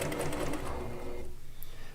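A heavy-duty modern sewing machine, resembling an old Singer, stitches in a steady rapid run that continues across the whole span, then grows softer and thinner toward the end.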